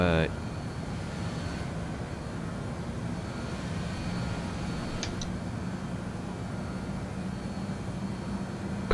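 An airliner's jet engines hold a steady, loud broadband roar as it takes off from Amsterdam Schiphol in Microsoft Flight Simulator 2020, with a brief high beep partway through and no speech.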